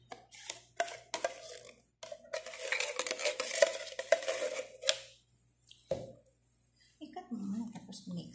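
Macaroni salad being stirred in a bowl, with intermittent spoon scrapes and clinks in bursts and pauses, close by, while a person talks over it.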